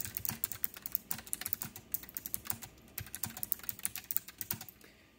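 Rapid, uneven typing on a K1 mechanical keyboard with loud switches, a dense run of sharp clicky keystrokes heard close up and alone.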